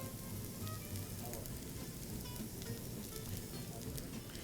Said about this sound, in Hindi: मैं अब पाऊंगी जी इसमें हस्बे जायका नमक